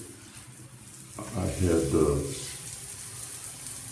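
Water bursts from a handheld shower head after a sudden switch-on, turning into a steady hiss and spray that runs under a few spoken words.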